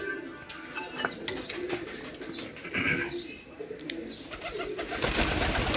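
Soft coos from pet pigeons sound nearby over rustling background noise, with faint chirps and a few scattered clicks.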